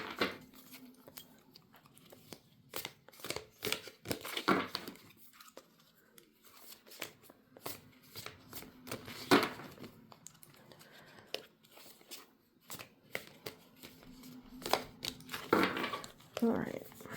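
Intermittent crisp shuffling and riffling of oracle cards, with scattered bursts of papery snapping and rustling close by, separated by quieter gaps.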